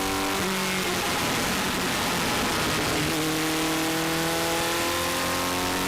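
A vintage race car's engine on a hot lap at Mosport, roaring loud and close amid heavy wind noise, the pitch rising and dropping through gear changes partway through.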